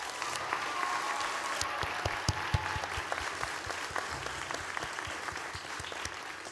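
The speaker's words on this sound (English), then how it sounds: "let's take a moment to honor our loved ones at this time with a round of applause" A graduation crowd at Stranahan High School's 2021 ceremony applauds in a broad, steady wash of clapping, with some sharp individual claps standing out near the microphone.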